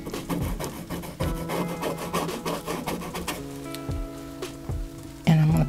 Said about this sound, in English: Now I am scrubbing in just a little bit, coming across that pink.